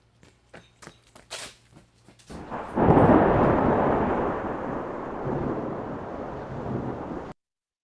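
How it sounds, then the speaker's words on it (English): A few light footstep-like taps give way to a loud clap of thunder that rolls and rumbles for several seconds before cutting off. "He was running when he heard a thunder."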